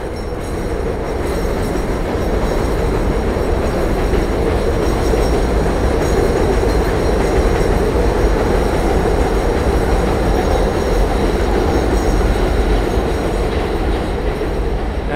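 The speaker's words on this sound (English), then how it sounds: "And now we're back to the noisy subway." Noisy subway train in Queens, New York, rumbling loudly and steadily throughout with continuous rail roar and faint wheel squeal, up close with no talking.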